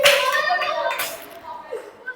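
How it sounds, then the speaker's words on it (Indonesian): Elementary schoolchildren in a Year 5 classroom clap briefly for a classmate. A few light claps sound amid children's voices and chatter before fading into quieter murmurs. "Tepuk tangan buat temennya."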